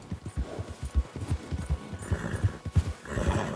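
Horse in the Red Dead Redemption II video game: repeated hoof clip-clops in an uneven trotting rhythm, with snorting and whinnying mixed in, close and fairly loud.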